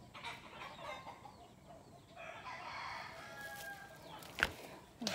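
Farmyard chickens cluck and a rooster crows at a distance, faint and scattered over a steady outdoor background, with a couple of sharper calls near the end.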